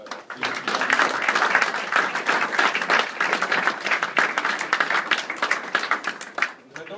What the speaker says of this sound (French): Donc je vais vous demander de vous applaudir.